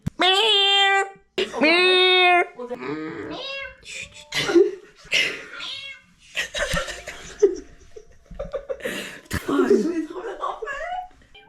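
A person mimics an angry cat with drawn-out, rising and falling yowls, followed by laughter and excited chatter from a few voices.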